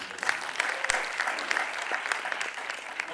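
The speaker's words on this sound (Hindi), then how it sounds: "कपिल शर्मा 1 करोड़ तक पहुंचे, उनके लिए ताली।" Studio audience at an Indian stand-up comedy show applauding, steady dense clapping throughout at moderate level with no voices over it.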